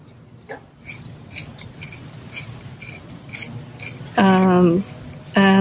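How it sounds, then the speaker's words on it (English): Sketching with a Prismacolor Verithin pencil in Crimson Red on paper, close, dry scratchy strokes in short irregular bursts, with someone talking over part of it. "I sketch with a Prismacolor Verithin pencil in Crimson Red."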